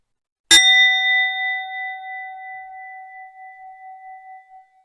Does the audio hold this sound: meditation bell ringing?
yes